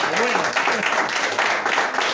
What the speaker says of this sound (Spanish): Se perdió la oportunidad de darle un aplauso al Señor, mire, pero de la buena.